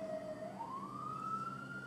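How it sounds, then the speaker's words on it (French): A single siren wails steadily outside, its pitch gliding upward partway through and then holding high, sounding somewhat unusual and moderately distant, heard alone without talk. "Elle est chelou, la sirène"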